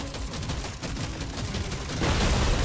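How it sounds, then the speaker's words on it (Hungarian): Two weapons fire dense, rapid bursts in the Deep Rock Galactic: Survivor video game, a continuous loud clatter that swells slightly toward the end. "most már kettő fegyverrel lövök egyszerre"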